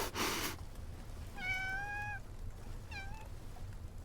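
A cat meows twice in the video game Love and Deepspace, first a longer, clear call and then a shorter one, over a low steady background hum, with a brief burst of noise at the very start.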